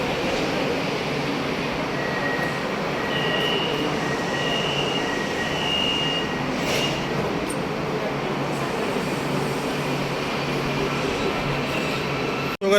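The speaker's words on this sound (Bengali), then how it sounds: "ট্রেন চলে আসছে, দেখেন এমআরটি" An MRT train pulls into the elevated KLCC station in Kuala Lumpur, Malaysia, giving a steady, loud rumble of rail noise with faint high wheel squeals throughout and a brief clunk at the end.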